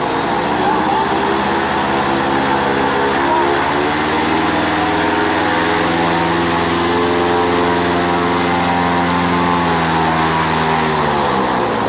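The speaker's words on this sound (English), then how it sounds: "Take it all the way to full throttle." Paramotor engine held at high throttle in a powered paragliding training simulator, a loud, steady buzzing drone that rises slightly and holds before easing near the end.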